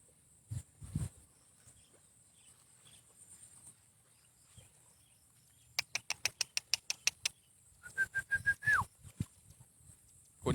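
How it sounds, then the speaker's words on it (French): A person whistles to fish in Thai rice paddies, a quick series of about ten short sharp chirps, then one longer sustained whistled note, with faint rustling between. "c'est moi qui siffle."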